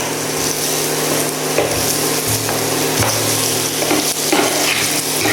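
Boiled potatoes being stirred into a papad patty mixture, a steady, close scraping and mashing with soft sizzle-like texture running continuously and fairly loud throughout, no voices.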